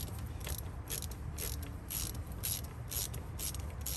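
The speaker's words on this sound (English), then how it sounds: "go ahead and tighten your 10mm clamp right here while it's out in the open" Ratchet wrench tightening a 10mm clamp on a car's intake by the throttle body, a quiet run of even, rhythmic clicking strokes, close up over a faint hum, no talking.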